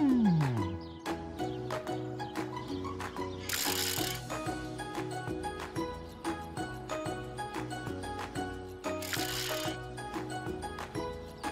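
Cartoon ratcheting screw-turning effect for a small construction truck fastening a ramp, with rapid mechanical clicks layered over bouncy music and two bright whooshing bursts.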